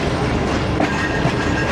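The Karakoram Express rolls into Faisalabad's platform 1 in a steady, loud rumble of railcars heard from on board, with faint wheel clicks and light squeals over the din and no talking.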